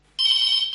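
A single telephone bell rings for a phone-in farming radio programme, a bright, sharp electronic tone that starts abruptly and holds steady and close for under a second.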